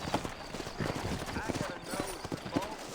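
Hooves of horses clip-clopping in the Western video game Red Dead Redemption, set in New Orleans, a steady near rhythm running under continuous talk.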